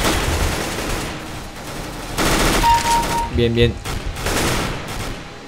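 Bursts of rapid gunfire from the game CS:GO crackle in quick volleys, loud and close, while a player talks over the shooting.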